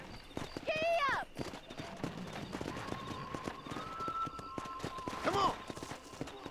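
Horse hooves galloping in the Western video game Red Dead Redemption, a quick rhythmic clip-clop running throughout with whinnies near the start and end, a voice speaking over the riding, and a sustained tone in the middle.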